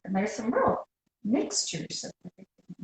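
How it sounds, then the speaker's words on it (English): A neighbor's dog barks in a short run of sharp, clipped yaps toward the end, following steady talk from a nearby voice. "my neighbor's dog"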